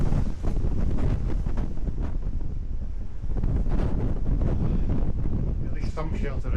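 Strong wind buffeting the microphone during a hilly trail run, a constant loud roaring rumble with gusty fluctuations throughout, plus faint footfall and movement noise underneath.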